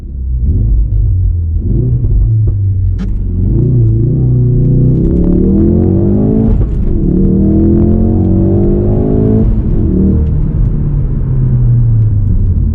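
Ford Focus RS 2016 with all-wheel drive launching from a standstill in sport mode, a loud close engine rumble rising through the revs with audible gear changes, engine alone with no talk.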